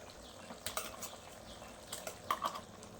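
A spoon scrapes and clinks against a pan of vegetable kurma with coconut paste in a few short bursts while it bubbles and sizzles softly underneath.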